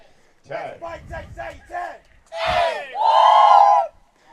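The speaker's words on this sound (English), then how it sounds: "Very spirited crowd from Texas A&M this morning." A spirited Texas A&M crowd at a collegiate archery match gives a rhythmic series of short chanted shouts, then a louder yell and a sustained whoop, all close and clear.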